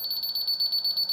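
Rapid high-pitched beeping from a laser level receiver signalling above grade, a quick even pulse of short electronic tones heard close up with no voices.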